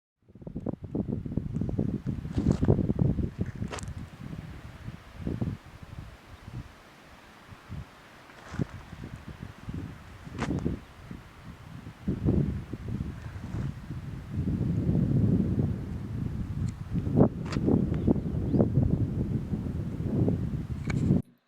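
Strong wind roars and gusts steadily across an open mountain landscape between Muktinath and Manang, with buffeting rumbles on the microphone throughout and no voices.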